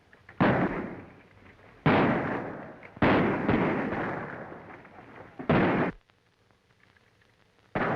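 Heavy battlefield gunfire and explosive blasts from a 1937 adventure film come in several loud, booming bursts, each lasting about a second or more, with short quieter gaps between them and no speech over them.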